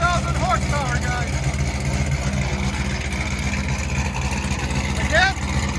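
A 1,000 hp Procharged Corvette with long tube headers idles with a loud, steady, deep engine rumble up close, with brief voice-like chirps over it.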